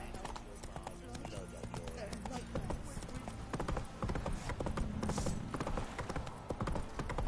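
Roach the horse gallops in The Witcher 3, a steady run of hoof clip-clops with a brief whinny, while a voice talks over the hoofbeats.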